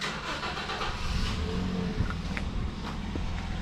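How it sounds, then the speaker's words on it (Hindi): Car being driven out through a gate at a home, its mid-pitched engine idling and then revving up close by, with faint footsteps and small knocks around it. "गेट खोली है और पापा भी गाड़ी निकाल रहे हैं हम।"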